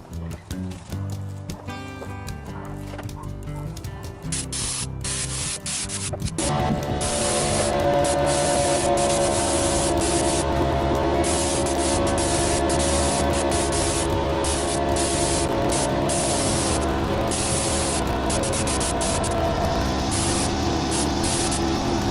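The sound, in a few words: spray gun spraying polyurethane coat on cabinet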